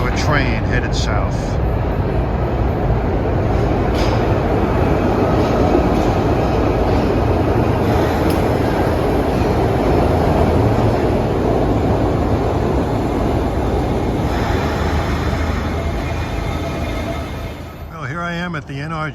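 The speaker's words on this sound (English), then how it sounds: "Finally, we have a train headed south." A southbound Broad Street subway train in Philadelphia, Kawasaki cars from the 1980s, roars past close by in a steady loud rumble of wheels and motors that eases off near the end, with a voice speaking over it.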